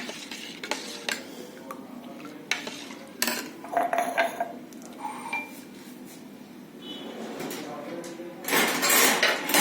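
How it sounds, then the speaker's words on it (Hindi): Metal cutlery clinks and rattles in a kitchen while someone rummages for a spoon. Irregular bursts of jangling come close by, and a louder clatter sounds near the end. "वो चम्मच मिल नहीं रहा, मैं चम्मच ढूंढ रही थी, मिल गया।"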